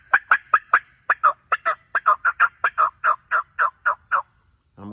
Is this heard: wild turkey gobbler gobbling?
yes